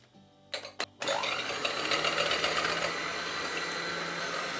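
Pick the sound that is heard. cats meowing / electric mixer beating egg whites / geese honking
electric mixer beating egg whites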